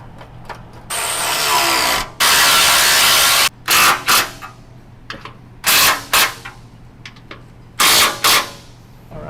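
A power tool, likely an impact wrench, drives bolts on Toyota 4Runner 5th Gen rock sliders in several loud, close bursts of rapid hammering, separated by short pauses and faint background noise.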